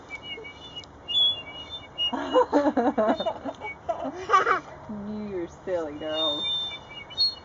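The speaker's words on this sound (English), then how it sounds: "Is it a whistle?" A small child blows a toy whistle, giving bright, repeated chirpy tones in short bursts close by, while adults talk and laugh around it.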